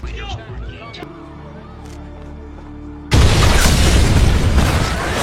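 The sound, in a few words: explosion outside the White House in a film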